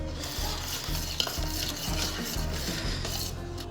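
Beef marinade with chili garlic sauce and lemon juice being stirred in a bowl, repeated wet squelching strokes with light scraping, close and steady throughout.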